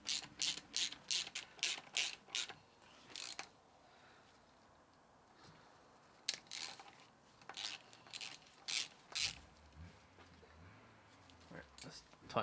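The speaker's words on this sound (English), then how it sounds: "let's tighten these top ones first" A ratchet clicks in quick bursts while tightening bolts on a Suzuki Swift gearbox during a bearing replacement, with pauses between sets of turns and someone talking at times.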